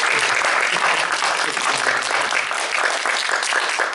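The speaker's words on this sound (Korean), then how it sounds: "우리 한번 수고하신 모든 분들을 위해서 한 번 더 크게 박수 한번 하십시다" A church congregation at a Sunday worship service claps for the choir and praise team. The applause is steady and sustained, with a full room of hands sounding throughout.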